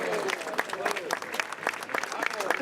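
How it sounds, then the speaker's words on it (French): Audience clapping at a trophy ceremony after a horse race, with dense, fairly faint applause running steadily for a couple of seconds. "celui de monsieur Thomas Fourcy, que je vous demande d'applaudir également."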